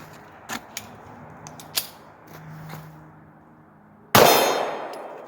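A Glock 43 pistol fires a Tula 135 gr hollow point round, giving one loud, sharp report near the end that decays quickly, preceded by faint small metallic clicks and handling sounds.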